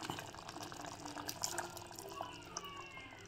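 Water is poured into a homemade mutton curry simmering with ground masala, a soft, quiet trickling and splashing that runs continuously for a few seconds with no voices.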